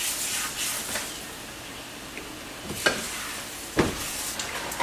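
Flour being stirred into melted butter for an Alfredo sauce sizzles steadily in a pan, with soft scraping strokes and a couple of louder utensil clacks, up close and with no talking.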